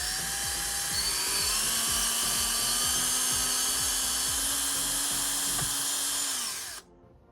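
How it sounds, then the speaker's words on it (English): A small high-pitched power drill whines steadily while boring a hole in a 1/16 scale M901 ITV model kit, with a sustained tone and faint clicking beneath it, then it cuts off abruptly near the end. "This guy is probably going to need to have a separate hole drilled right down the middle there."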